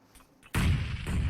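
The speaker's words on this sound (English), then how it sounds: "Red Ox cops a nade, dunks him down to about half HP." A sudden loud grenade blast in PUBG Mobile, with heavy rumbling gunfire following right after a quiet moment.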